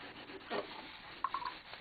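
A dish sponge scrubs at stubborn stuck avocado on a plate, a few soft close rubbing strokes with a faint squeak, quiet and brief.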